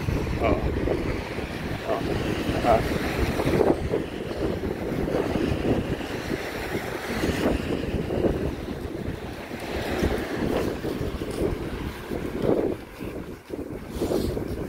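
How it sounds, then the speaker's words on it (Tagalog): Strong wind buffets the microphone in uneven gusts, with a rumbling roar that rises and falls throughout, no clear voices. "Mahangin din, no, malamig."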